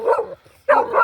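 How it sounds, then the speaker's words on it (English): Two sharp barks from an American Bully close by, separated by a brief pause. "Why is she barking at him like that?"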